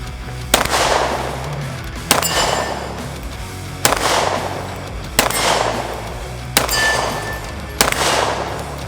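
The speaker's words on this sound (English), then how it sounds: "We're gonna try to put 6 rounds on steel, not as quick as we can, but as proficient as we can." Six loud, deliberate pistol shots from a Smith & Wesson M&P 2.0 3.6 fired at steel targets on a range, each about a second and a half apart and each followed by a ringing decay.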